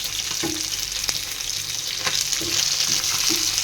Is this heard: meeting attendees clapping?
no